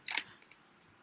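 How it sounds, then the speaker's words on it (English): Small toy spray can accessories with a bead inside rattle in a quick burst of clicky shakes, then two faint ticks, close and alone. "the spray cans rattle"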